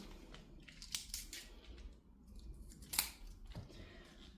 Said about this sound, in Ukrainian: Ножика в мене тут немає, тому роблю це ножицями.